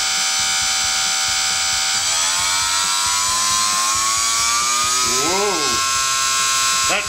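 The brushless electric motor of an E-Flite UMX Sbach 342 RC plane runs close by as a continuous high whine. Its pitch climbs and wavers as the throttle changes, and people talk over it.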